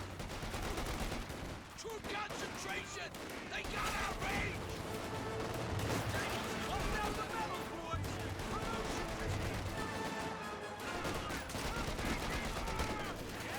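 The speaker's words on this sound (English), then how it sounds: "Vickers or MG34 gain some good suppression here." Vickers and MG34 machine guns firing in a Company of Heroes 2 battle, with dense continuous bursts and explosions mixed into a busy game soundscape, a commentator talking over it.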